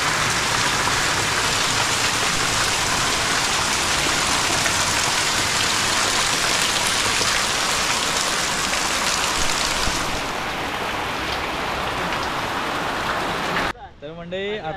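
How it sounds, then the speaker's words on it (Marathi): Heavy rain pours down steadily in a dense, loud hiss that lasts almost the whole stretch, easing slightly near the end before a voice briefly breaks in. "पावसाचं जोरदार आगमन झालंय"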